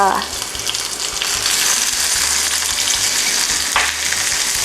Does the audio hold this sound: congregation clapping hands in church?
no